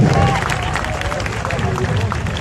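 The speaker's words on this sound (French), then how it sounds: "Applaudissements général" A live audience breaks into general applause, a dense wash of clapping mixed with crowd noise and voices, steady and fairly loud through the short stretch.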